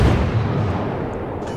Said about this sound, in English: here comes some 16-inch shells on his way